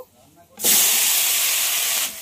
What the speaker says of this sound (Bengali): পেঁপে আর আলুটা লাল লাল করে ভেজে নেব।